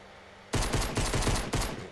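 Rapid automatic gunfire in the Fortnite Battle Royale video game bursts in loud after a quiet start, a dense stream of close shots pulsing with a few slight pauses.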